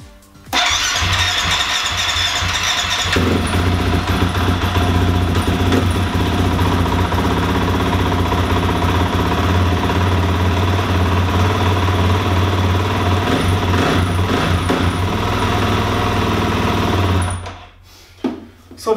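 KTM 250/350 motorcycle engine started without the choke, catching roughly before settling into a loud, steady idle close by, with a higher-pitched rattle early on, then cutting off near the end; no voices.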